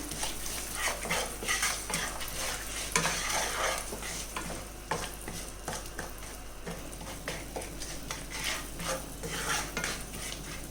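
Cumin, a black cardamom, a piece of cinnamon and a bay leaf sizzling in a pan for butter paneer masala, a steady crackle under constant stirring and clinking of a utensil against the pan.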